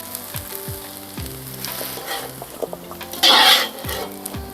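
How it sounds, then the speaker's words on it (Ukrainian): Carrots and onions sizzle and fry in a cauldron, with a steady crackle, occasional stirring clinks and one louder hiss burst midway. "Зовсім трішечки підсмажили моркву з цибулею"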